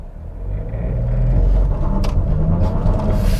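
A 2022 Nissan Rogue Platinum with front-wheel drive launches in sport mode from brake and throttle, its engine rumble swelling loudly and holding as the car accelerates hard.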